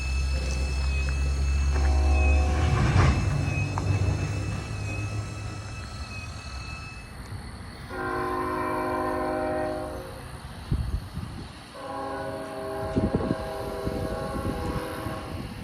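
Distant freight train horn sounding in repeated long blasts at Wooddell Road crossing in Greenville, South Carolina at night, heard over a low rumble with a few brief clanks between the calls.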